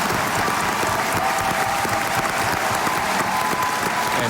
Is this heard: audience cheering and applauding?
yes